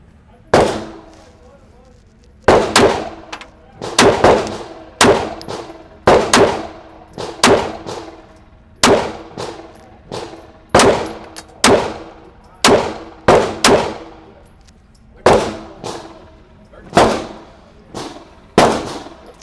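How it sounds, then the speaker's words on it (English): Revolver shots ringing off a steel target, about twenty sharp loud cracks each followed by a metallic clang, fired in spaced groups with brief gaps between them. "So I'll go 5 shots in the target number 4"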